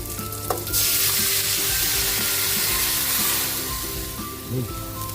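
Sautéed mussels sizzle loudly in a pan as broth and Sprite are poured in, a steady hiss of frying liquid running close and strong throughout with a faint splash at the start.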